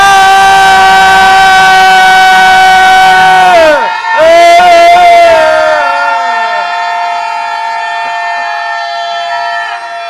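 A church congregation in Sunday worship shouts together in one loud, sustained roar that swells, briefly drops out and resumes, layered over sustained musical tones that fade away afterward.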